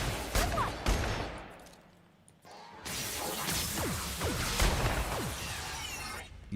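Gunfire in The Outer Worlds video game, with sharp shots and crashing impacts, whooshing effects and game ambience, loud and busy throughout.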